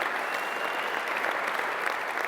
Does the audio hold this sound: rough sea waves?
no